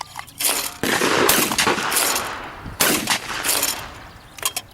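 Shotgun blasts at clay targets on a family range day: two loud booming shots with long rolling echoes, with fainter cracks around them, no talk.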